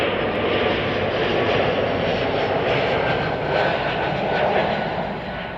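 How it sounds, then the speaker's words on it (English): A fixed-wing airliner landing at Chicago O'Hare roars loudly and steadily close by, its engine noise sustained throughout with a slight swell near the end. "Today, it's east flow, so we're going to see the planes land right in front of us."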